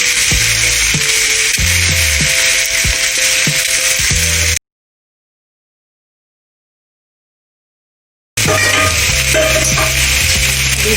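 Pumpkin sabji with salt frying in a pan, a loud, close sizzle with scraping strokes of a spoon stirring, broken by a few seconds of total silence midway before the sizzling resumes.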